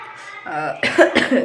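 A person coughs several times in quick succession, harsh and close, preceded by a short voiced throat sound.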